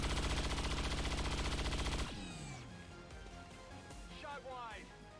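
A missed rifle shot in XCOM 2, a single sharp burst at the start over dense game music and effects, followed by lower ambient game sound with someone talking over it.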